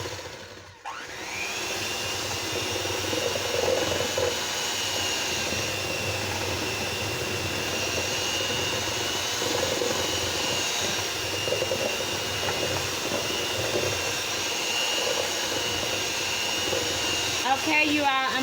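Electric mixer beating butter cookie dough, a steady whirring drone running continuously and fairly close with a brief dip near the start.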